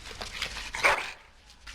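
A dog in the video game Dragon Age: Origins gives a short, close bark amid faint game ambience.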